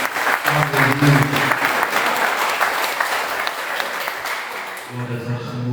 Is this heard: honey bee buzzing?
no